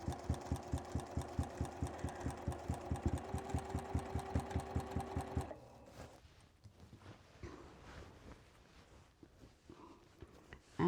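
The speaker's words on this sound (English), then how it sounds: "there's something very soothing and relaxing about just running fabric through your machine" Sewing machine straight-line quilting through layers of fabric, a fast steady mechanical stitching rhythm running loud and close for several seconds, then stopping abruptly into quieter handling noise.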